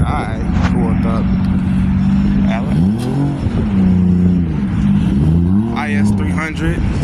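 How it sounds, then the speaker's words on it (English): A Lexus IS300 engine revs at a car meet, the exhaust rising and falling through several throttle blips close by, with people talking over it. "IS300, sound nice as hell."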